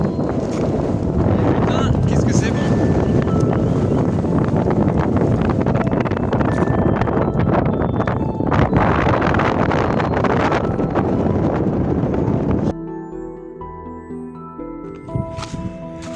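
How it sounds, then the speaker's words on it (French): Strong wind buffets the microphone on a Corsican mountain trail on the GR20, a loud broadband roar over someone speaking briefly, then dropping away near the end to quieter sounds. "Il y a du vent."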